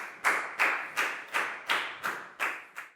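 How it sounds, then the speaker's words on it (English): Pupils in a Year 4 maths class clap for a classmate, eight evenly spaced, sharp claps landing in unison, close by and with no talking. "Big round of applause for Net"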